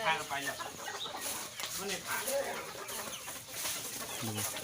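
Chickens, including a mother hen, cluck and squawk in short bursts amid a busy outdoor din, with people talking nearby.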